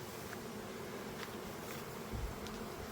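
Honey bees flying around hives in the morning: a faint, steady buzzing drone of many bees, with a brief low thump near the end.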